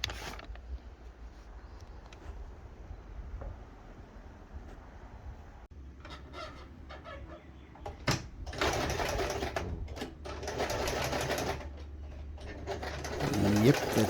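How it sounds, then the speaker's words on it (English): A regular household sewing machine stitches piping in bursts of rapid mechanical whirring that grow busier and louder toward the end, with quieter stretches between runs. "Just a regular household sewing machine."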